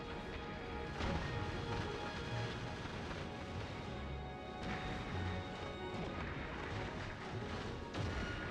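Rocket turrets firing in Factorio: Space Age, a dense run of crashing impacts and booms, steady and loud throughout, with harder smashing bursts near one, five and eight seconds and no talking.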